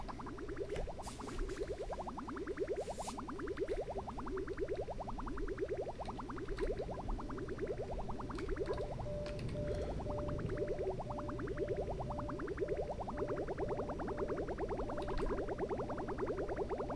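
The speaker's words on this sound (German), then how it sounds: "Da mal ein bisschen Öl in den Kreislauf pumpen" In the game Oxygen Not Included, oil pumped into a pipe circuit makes a quiet, steady bubbling gurgle that repeats in a regular rhythm across the whole stretch, with no voices.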